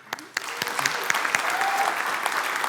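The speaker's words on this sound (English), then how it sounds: "So I want to give Matt an applause before his film even starts." An audience at a chamber of commerce live event hosted by an eye care practice claps for a filmmaker before his film plays: dense, steady applause with sharp individual claps, holding strong and swelling slightly toward the end.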